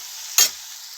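A short burst of hot tempering hitting a pot of sareeri saag, one sharp loud sizzle and stir lasting a fraction of a second over a faint steady background hiss, with no voices.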